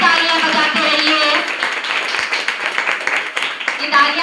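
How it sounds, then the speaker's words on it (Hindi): An audience at an Atal Ji birthday celebration in a tehsil claps loudly and continuously for a panel of judges being honoured, with music and voices blending into the applause. "कृपया आप लोग जोरदार तालियां बजाते रहिए।"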